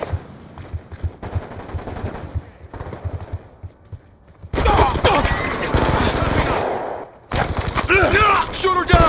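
Gunfire in Call of Duty Black Ops 2 split-screen team deathmatch on the Aftermath map aimed at shooting down a UAV, with dense bursts of automatic fire, loud and continuous in two long stretches after quieter intermittent shots, with voices heard in between.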